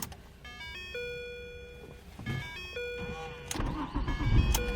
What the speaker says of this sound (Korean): 바로 시동 한번 걸어보도록 하겠습니다